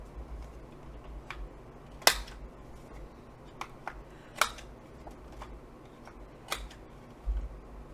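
Corner rounder punch cutting the corners of paper file folder pieces, several sharp separate clicks and snips spaced a second or two apart, close and fairly quiet.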